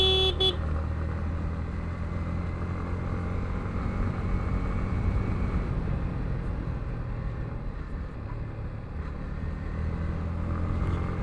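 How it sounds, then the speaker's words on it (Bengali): A motorcycle horn gives a short toot right at the start on a winding mountain road from Bandarban to Thanchi, followed by a steady engine and wind rumble as the bike rides on, with no speech. "এই মোড়গুলাতে যখন মোড় দিয়ে বের হবেন যখন, তখন অবশ্যই হর্ন দিবেন, হর্ন ব্যবহার করবেন"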